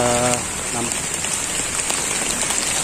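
Steady rain falls across an outdoor cemetery where a fallen tree lies cut up, a dense continuous hiss throughout with a brief voice at the start.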